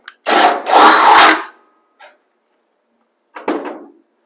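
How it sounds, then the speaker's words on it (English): A loud burst of harsh grinding from a drill biting into metal during inner A-post reconstruction of an MGB GT, about a second long, followed by a brief tap and a shorter second burst. "I'll go ahead and drill it out."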